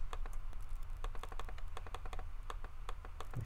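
Computer mouse clicking during a Bible study on Hebrews 13, a steady run of small, crisp, faint taps at an irregular pace with no talk over them.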